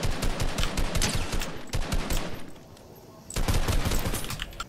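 Rapid bursts of gunfire from other players in Fortnite battle royale, dense repeated shots close in, briefly dropping to a quieter lull before another loud volley.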